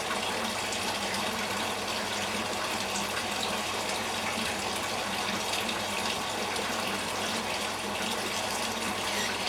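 Water sample poured into a titration flask for a water quality test, a steady close-up rush of liquid running without a break for the whole stretch, no voices.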